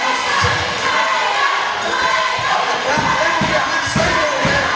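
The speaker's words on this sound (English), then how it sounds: "Listen to this crowd. They are electric here tonight in Philadelphia." Wrestling arena crowd in Philadelphia cheering and roaring at a title match, a loud continuous wash of shouts and cheers with no clear talk over it.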